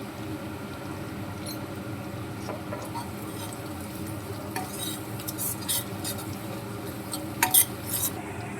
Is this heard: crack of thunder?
no